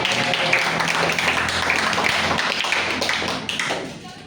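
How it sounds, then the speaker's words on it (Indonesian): An audience at a school anti-bullying seminar applauds, a thick, continuous wash of many clapping hands that holds steady and then thins out toward the end. "Tepuk tangan dong."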